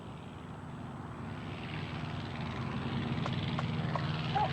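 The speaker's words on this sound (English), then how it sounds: "The tiny plane with its 65 horsepower engine heads for the runway used by its bigger brothers during the week." A tiny plane with a 65 horsepower engine taxis toward the runway, its propeller engine drone rising steadily and growing louder as it nears.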